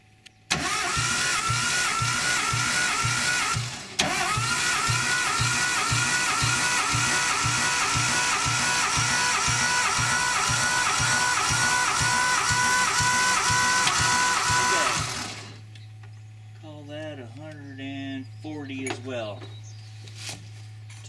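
RB20DET engine cranked on the starter during a compression test, producing a loud, even rhythmic chugging for about fifteen seconds before it cuts off, followed by a lower hum and some faint background noise.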